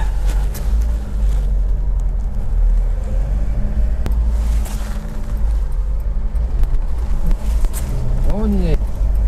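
Alfa Romeo Giulia GT 1750 Bertone coupe on the road, a low steady engine rumble with wind noise throughout, heard from inside the car, while people talk over it.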